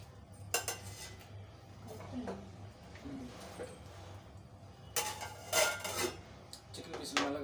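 A lid is set on a cooking pot while Gongura chicken curry is prepared, with several metallic clinks and clatters of pot and utensils nearby, and a person speaking throughout.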